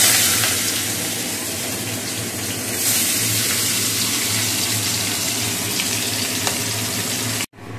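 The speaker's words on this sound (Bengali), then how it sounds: "মাছগুলো আগে ভেজে নিই" Pieces of fish frying in a pan of oil, a steady close sizzle and crackle that carries on without a break, with occasional light clinks.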